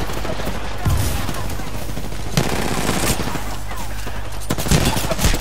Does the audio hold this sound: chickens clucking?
no